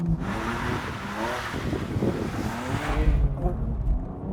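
A BMW M2 Competition accelerates hard in a drag race, its engine roaring loud and close in a sustained rising drone that builds toward the end.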